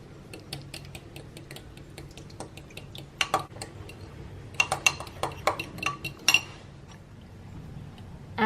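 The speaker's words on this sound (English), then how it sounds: "And now we are gonna mix it well." A spoon stirs a homemade moisturiser mixture in a bowl, producing quiet, irregular clinks and taps against the side, sparse at first and then clustering into a brisker burst of scraping knocks before settling again.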